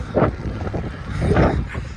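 Gusty wind buffeting the microphone outdoors on a bike ride, a low rumbling roar that swells and eases, loudest near the start and again toward the end.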